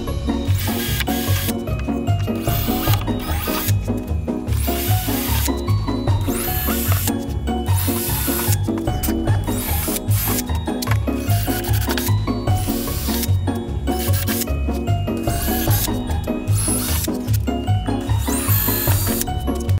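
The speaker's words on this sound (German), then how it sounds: "Also dünner Bohrer, wenn man sowas bohrt." A power drill with a thin bit bores into wood with a steady, grinding whir and rhythmic scraping, continuous and close throughout.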